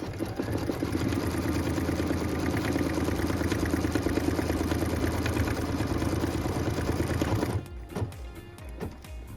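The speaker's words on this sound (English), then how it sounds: "go ahead and stitch it" An embroidery machine in a hoop stitches a straight side of a quilted wall hanging with a steady, fast, loud mechanical whir that runs continuously, then stops near the end, leaving quieter handling noises.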